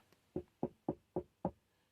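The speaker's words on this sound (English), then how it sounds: "He knocked on the door" Five sharp, evenly paced knocks on a wooden door in a children's storytime reading, each a hollow thud with quick decay, close and distinct against near silence.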